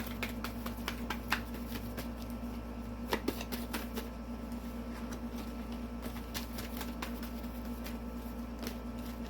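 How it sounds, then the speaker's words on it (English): Tarot cards being shuffled by hand in a quiet room, a steady run of soft riffling and patting with a few sharper snaps, fairly close, over a low constant hum. "2 more shuffles and I will take from the top."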